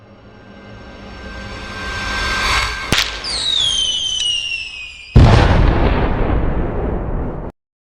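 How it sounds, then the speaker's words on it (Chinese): A signal flare shoots up with a sharp crack and a rising whistle, then a loud burst of fireworks erupts and crackles before cutting off abruptly. "挺好看的烟花。"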